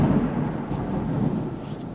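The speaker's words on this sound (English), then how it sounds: "we've got thunder" Thunder rumbles low and broad in the distance, a steady deep roll filling two seconds with faint rain-like hiss on top and no voices.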